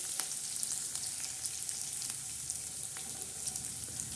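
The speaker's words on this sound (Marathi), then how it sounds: "तर हे बघा, किती मस्त अशी छान फोडणी बसलेली आहे." Garlic and cumin temper in hot oil, a soft steady hiss dotted with faint crackling pops throughout.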